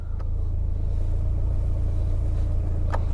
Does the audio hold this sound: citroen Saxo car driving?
yes